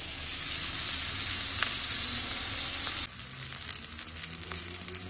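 Sausages fry in a pan with a steady, close sizzle, a continuous crackling hiss that drops slightly in level partway through and then carries on more softly.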